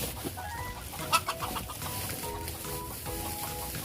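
Bantam chickens cluck softly near their nest, with a few brief, close clucks and calls over a quiet farmyard background.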